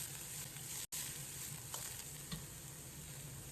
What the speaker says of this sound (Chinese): 放入豆芽，开大火快速煸炒，将豆芽炒至断生